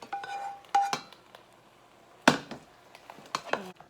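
Pasta and tomato-basil marinara with garlic being stirred in a pot, giving scattered clanks and scrapes of a utensil against the metal, with a few louder knocks spaced through the stretch and no talking.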